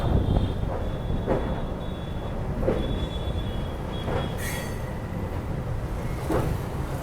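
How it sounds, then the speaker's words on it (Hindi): Shalimar Express train rolling across the Yamuna rail-cum-road bridge, a continuous loud rumble and rattle heard from inside, with periodic wheel clunks and a brief metallic squeal. "तो लगभग 15 मिनट यमुना ब्रिज के ऊपर ही रुकने के बाद अब हमारी ट्रेन फिर चली है।"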